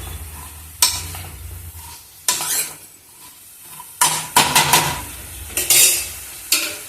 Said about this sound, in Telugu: ఒకసారి మొత్తం అంతా ఇలా పైకి కింద కలిపేసుకొని